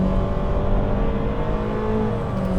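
A 2023 Honda HR-V's engine revs steadily under hard acceleration from inside the cabin, a continuous droning climb with a faint rising pitch.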